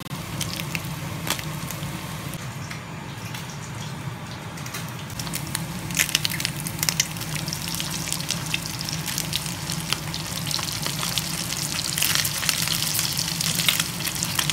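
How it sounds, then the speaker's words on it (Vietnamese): Spam and eggs fry in a pan, a continuous close sizzle and crackle that grows busier and louder partway through, with occasional scraping stir sounds. "Bây giờ em đang chiên spam và chiên trứng cho tất cả mọi người ăn."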